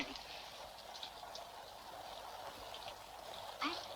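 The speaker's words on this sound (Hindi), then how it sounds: "बाहर बारिश हो रही है" Steady rain falling outside, a soft continuous hiss with scattered drips, heard faintly and alone for a few seconds.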